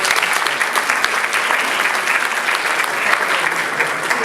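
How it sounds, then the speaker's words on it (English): Sustained, even round of applause from a banquet audience at a Chamber of Commerce State of the City luncheon, dense steady clapping filling the room for the whole stretch. "Let's give them all a round of applause"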